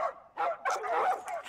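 Dogs in the video game Sea of Thieves bark in a rapid series of loud, close yelps and barks that follow one another almost without pause.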